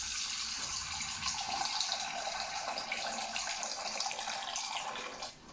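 Steady rushing water from a tap, a continuous hiss filling a pot close by, running without pause and cutting off near the end.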